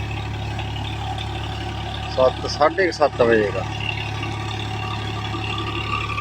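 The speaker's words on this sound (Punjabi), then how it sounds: "ਲਓ ਜੀ ਜਨਰੇਟਰ ਚੱਲਦਾ ਵਾ ਸਵੇਰ ਦਾ" A generator runs outdoors on a farm, a steady low droning hum continuing throughout, with someone speaking briefly over it partway through.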